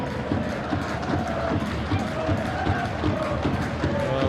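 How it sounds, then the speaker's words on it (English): A large, vociferous rugby league crowd at York during a match against Toronto, a steady dense roar of many voices throughout with no pauses. "The crowd vociferous."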